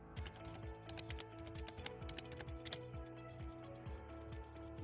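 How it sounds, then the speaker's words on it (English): Quick bursts of clicking keys on a computer keyboard as a search term is typed, close and fairly quiet, with no voices. "I will type biotechnology"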